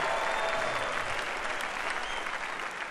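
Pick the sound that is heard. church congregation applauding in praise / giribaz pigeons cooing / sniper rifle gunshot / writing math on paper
church congregation applauding in praise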